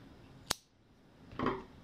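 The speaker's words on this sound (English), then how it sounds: "And then we're going to cut our yarn" Scissors cut a strand of yarn during crochet work. There is a single crisp snip, then a softer rustle a second later, all faint and close with no talk.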